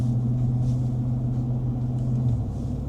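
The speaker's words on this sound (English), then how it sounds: "I'm driving the shop truck." A Ford F450 shop truck on the move in cold winter weather, heard from inside as a steady low engine drone and road rumble with no talking.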